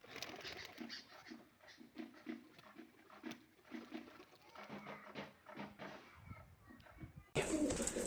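Pigeons coo in repeated low, soft bursts at a seller's pigeon market, steady through the clip, with scattered bird noise, rustling and a sudden louder burst of noise near the end.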